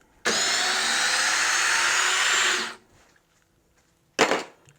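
A DeWalt DCD778 hammer drill bores into timber with a loud, steady whirring burst of about two and a half seconds, then a brief second spurt after a pause, with no talk.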